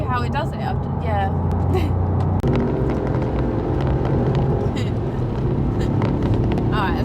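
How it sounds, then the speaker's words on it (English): Toyota Yaris GR Four hot hatch accelerating on back roads, engine note rising and steady inside the cabin, loud and continuous beneath someone talking throughout. "because it just goes and any petrol head will know exactly what that's like"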